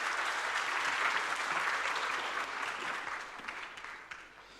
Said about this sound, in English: A big round of applause, welcoming him,